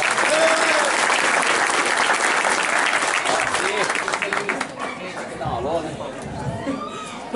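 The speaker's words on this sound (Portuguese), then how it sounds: "Seja bem-vinda, Cid Dantas, uma salva de palmas aí." A crowd claps steadily for several seconds, dense and lively, then the applause thins out as scattered voices and murmurs take over.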